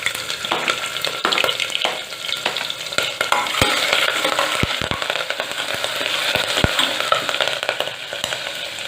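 Mustard seeds, cumin, asafoetida and spices sizzle in hot oil, a continuous close frying hiss punctuated by sharp irregular pops and crackles as seeds burst, with occasional stirring.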